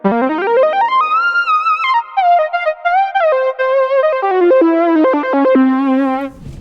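A bright Prophet-5/10 synthesizer line with buzzy, harmonic-rich tones gliding and stepping between notes, played loud and alone before cutting off.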